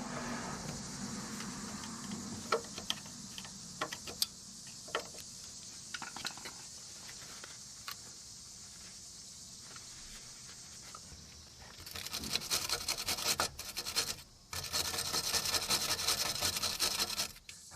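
Scraping and scratching at corrosion inside a sway bar link mounting hole on a Toyota Highlander or Lexus RX330, a steady gritty metallic rasp with sharp clicks, growing louder and harsher near the end.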